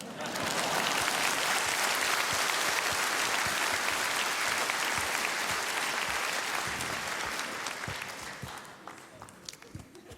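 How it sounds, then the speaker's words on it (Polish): A cabaret audience at a Laskowik & Malicki comedy show breaks into sustained, loud clapping that fills the room. The applause holds for about eight seconds, then thins out into a few scattered claps. "żebyście bili brawa, a nie oklaski"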